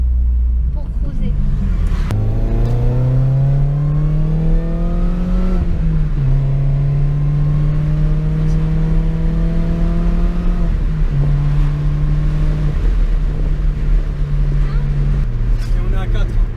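A Mini Cooper R53 engine drones loud and steady while cruising. The pitch climbs through each gear and drops at every shift, with about three shifts heard. Road rumble sits underneath, and occupants talk over the engine.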